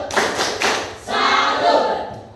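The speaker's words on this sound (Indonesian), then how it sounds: "mari kita tepuk salut buat kelompok 1" Classroom group performs the 'tepuk salut' clapping routine, a patterned series of sharp rhythmic claps in bursts with brief pauses, close and lively, no talking over it.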